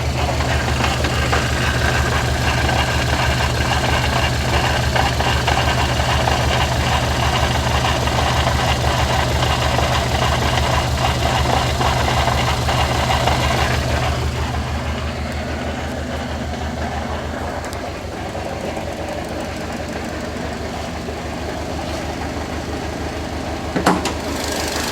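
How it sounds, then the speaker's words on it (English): A 2006 Subaru Legacy GT with a faulty five-speed manual transmission idles with a steady low drone and a faint knocking rattle from the center of the car, easing slightly quieter partway through. "Sounds like it's coming from the center of the transmission area"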